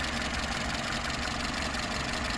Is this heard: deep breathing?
no